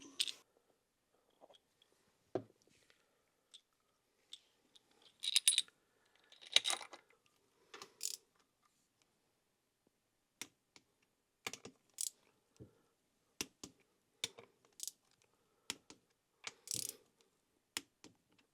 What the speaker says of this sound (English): going ahead and putting my cam caps back on and getting those torqued up